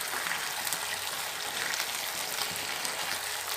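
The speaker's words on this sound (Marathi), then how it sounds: "आता मी पनीर घालणार आहे, पुन्हा छान मिक्स करून घेणार" Paneer cubes frying and being stirred in a hot pan for chilli paneer with tomato ketchup, a steady close, even sizzle with no talking.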